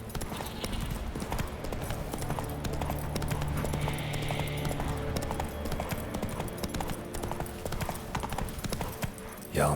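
Hooves of Roach, a horse ridden across Skellige in The Witcher 3, clip-clopping in a steady trotting rhythm for the full length, close and moderately loud beneath a low ambient game score.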